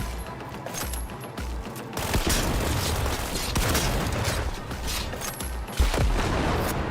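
Gunfire and explosions fill a fight in the video game Cyberpunk 2077: dense, continuous shots crackle throughout, with heavier booming blasts partway through and a sharp bang near the end.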